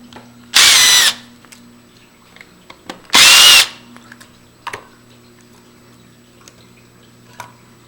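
Power drill backing out the two screws of a door latch, with two short loud whirring bursts separated by a pause, followed by small clicks and taps as parts are handled, close up.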